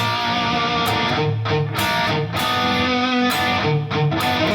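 An electric guitar plays a song's pre-chorus with a full, slightly driven tone, strummed chords changing in a steady rhythm, loud and close without voices.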